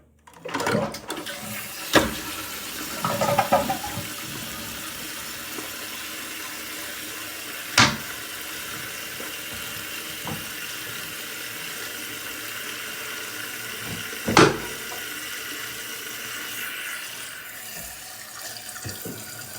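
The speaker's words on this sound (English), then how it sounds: "We're gonna go ahead and flush this thing and just make sure everything's all right." A toilet fitted with a new KOHLER flush valve flushes and then refills, a steady rush of water running throughout with a few louder knocks and splashes along the way, heard close up without talk.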